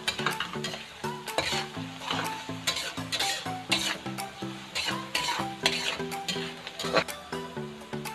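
Ginger stirred in a hot frying pan while cooking sisig, a steady sizzle broken by frequent scraping and clinking spatula strokes against the pan, close and moderately loud.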